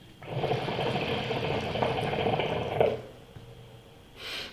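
CRT ECO Classic hookah smoked through a diffuser, giving a steady, fine fizzing bubble for about two and a half seconds that stops abruptly, then a short quieter burst of bubbling near the end.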